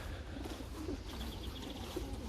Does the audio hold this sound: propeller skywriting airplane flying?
no